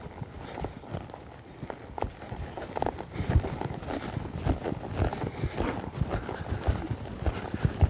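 Hoofbeats of a horse loping in a riding arena under training, a steady three-beat rhythm of clopping hooves close by and continuing throughout.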